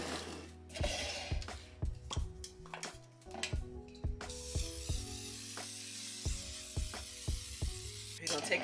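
Baking spray hisses into a pound cake pan in several short bursts, then one long steady spray, with music playing throughout.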